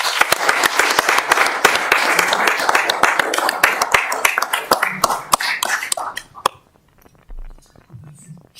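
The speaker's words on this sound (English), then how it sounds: "An applause for the families," Applause for honorees' families at a board meeting, a loud burst of many hands clapping that thins into scattered claps, then gives way to quiet room noise and a few clinks.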